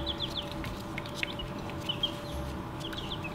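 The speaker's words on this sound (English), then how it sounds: "baby chicks" Baby chicks peep in high thin chirps above a steady low hum and a background murmur, the peeps close and scattered through the moment.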